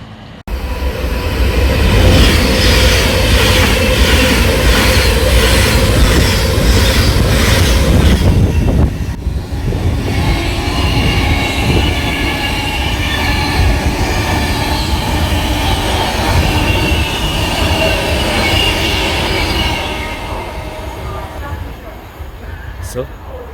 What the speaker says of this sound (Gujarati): એ વર્જિન ટ્રેન હતી. પહેલાં એને વર્જિન કહેવાતું, હવે ઇટ્સ કોલ્ડ અવંતી.